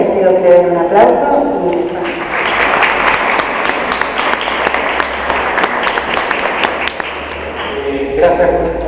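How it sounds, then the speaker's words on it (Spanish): An audience bursts into sustained applause lasting several seconds, dense and steady, with a voice speaking briefly before and after the clapping. "les pido que den un aplauso."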